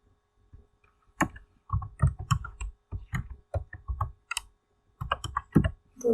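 Rapid keystrokes clatter on a computer keyboard while someone types an HTML heading in a coding tutorial, with irregular bursts of clicks and short pauses, close and fairly clear, with no voice.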